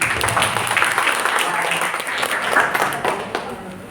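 A crowd applauds at a workshop event for Amin Darwis, steady clapping from many hands throughout, fairly loud and continuous with no voices rising above it.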